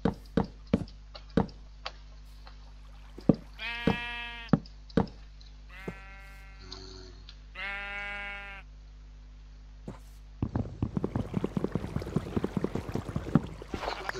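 Minecraft sheep bleat several times in clear harmonic bursts around the middle, mixed with sharp block-placing knocks and taps, then a busier stretch of rapid clicks near the end.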